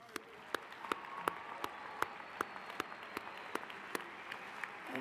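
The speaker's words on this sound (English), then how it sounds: "I think we need to give these students a round of applause." A crowd applauds at a high school graduation ceremony in a large hall, with sparse, steady clapping and a few sharper individual claps standing out across a few seconds.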